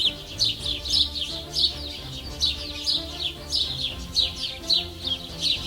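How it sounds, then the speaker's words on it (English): Birds chirp on Volcano Baru in quiet, peaceful surroundings, with repeated bright tweeting calls coming in a steady rhythm about every half second over a soft outdoor background. "The birds are chirping, the bees are buzzing,"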